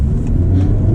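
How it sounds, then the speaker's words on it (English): A 2024 Honda Civic Type R in R mode accelerates hard with a loud, steady low engine rumble and rising rev note heard from close by, continuous and without talk. "I feel like the car accelerates so much faster in R mode than it does in comfort or sport"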